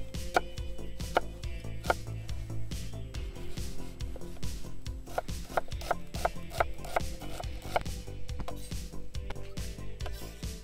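A knife chops an onion into small cubes on a board, quick repeated taps at an even rhythm, close by over a faint background hum.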